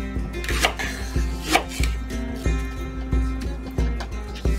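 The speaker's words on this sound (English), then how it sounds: "So we're going to slice the leeks in thin slices." Leeks being cut into thin slices with a knife on a board, a quick even run of close, crisp chops at a steady rhythm, with no talking.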